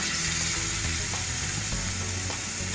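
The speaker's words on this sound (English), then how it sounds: "Our grilled pan is ready for cooking as the smoke is coming out, and at the time we fry 2 pieces" Two beef steaks fry on a smoking-hot grill pan, giving a loud, steady, unbroken sizzle up close.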